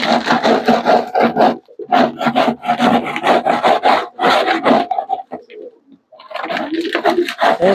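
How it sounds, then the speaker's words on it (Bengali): Dirty pigeon cage trays from a home pigeon loft are scrubbed and scraped in close, loud rhythmic bursts, with a short pause midway and soft pigeon coos around the scraping. "তো এখন আমি ট্রে গুলো একটু পরিষ্কার করব"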